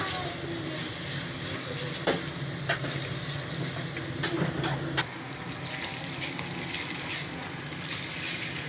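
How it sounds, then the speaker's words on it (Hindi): Paste from two large tomatoes fries in a pan with cooked garlic, a continuous hiss and sizzle with a few sharp spoon taps and scrapes, close and steady throughout. "अब इसमें डालते हैं 2 बड़े टमाटरों का पेस्ट। इसको भी भून लेते हैं।"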